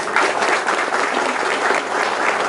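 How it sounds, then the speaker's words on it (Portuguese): An audience at the opening of a Christmas lights event applauds after a speech, giving steady, dense clapping that fills the short stretch with no talking over it. "eu peço uma salva de palmas"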